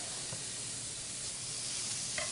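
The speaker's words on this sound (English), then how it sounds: "now we're going to add all of our chopped bacon in here. I'm going to let this render down for a little bit." Chopped bacon sizzles steadily in a pot as it renders down, a dense, continuous crackling hiss close by with a few faint scrapes, no talking.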